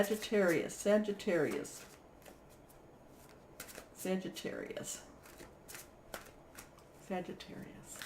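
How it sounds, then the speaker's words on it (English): Tarot cards shuffled and cut by hand in short bursts of riffling and slapping, interleaved with a voice talking. "let me go ahead and cut this deck"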